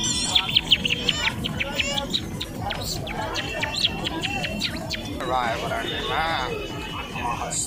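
A person imitates the call of the first bird heard at dawn around 5 a.m., producing a run of chirping whistles, with speech and crowd babble around it.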